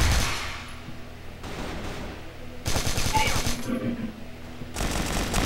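Bursts of automatic gunfire from a weapon in the shooter game CrossFire, loud rapid volleys separated by brief quieter gaps, with some game sounds in between.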